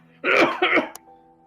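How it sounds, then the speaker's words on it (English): Two harsh, close coughs in quick succession, followed by a short click and a quiet background hum. "takes a bite of the jerky and then almost immediately starts coughing"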